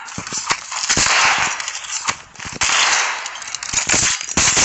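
Rapid gunfire in a Call of Duty Mobile match against a sniper, a mix of crisp sharp shots and bursts cracking close and loud over a bright, hissing background roar.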